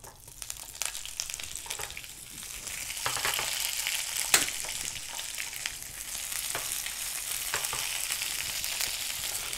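Asparagus sizzles steadily in a small pool of melted butter in a pan, a continuous crackling fry with scattered pops and a brief louder spatter midway, fairly close and with no talking.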